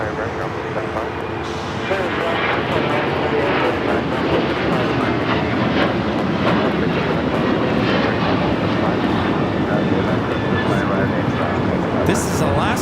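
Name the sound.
Alaska Airlines Boeing 737-900ER taking off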